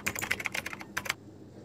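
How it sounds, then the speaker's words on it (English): Rapid keyboard typing added as a typewriter effect in Adobe Premiere Pro: a quick run of close, crisp key clicks that stops abruptly, followed by near silence. "you can import the typewriter sound effect from YouTube"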